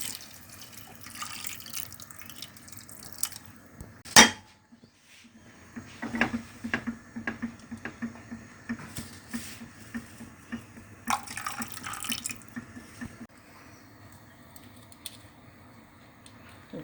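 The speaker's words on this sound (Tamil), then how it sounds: "கோதுமை மூழ்கிற அளவுக்கு தண்ணி," Water is poured and run from a tap over soaked whole wheat for cooking with oil and salt, a trickling, splashing flow in uneven bursts with drips and clinks of kitchenware, moderately close.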